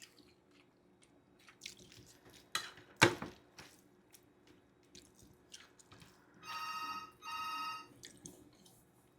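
A phone rings for an incoming call in two short bursts of ringing tone near the end, moderately loud over a quiet room with scattered small clicks and knocks.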